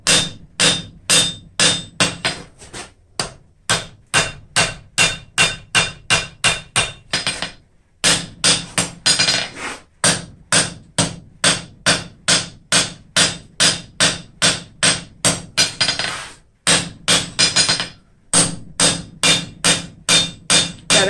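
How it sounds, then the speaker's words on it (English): A hammer strikes hot steel on an anvil while forging bolt jaw tongs. The blows are loud, ringing and close, falling in steady rhythmic runs with short pauses between them. "I'm going to drive it kind of into the anvil a little bit, set our shoulder and our line"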